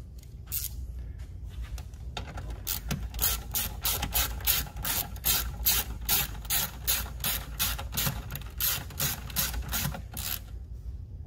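A hand ratchet tightens the mounting bolt on a pickup's coolant tank, producing long runs of rapid, crisp, evenly spaced clicks up close, with a brief pause before the fast cranking settles into a steady rhythm.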